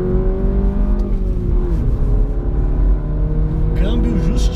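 A manual Mini Cooper JCW engine hums and accelerates, its tone rising and holding steady under someone talking from inside the car.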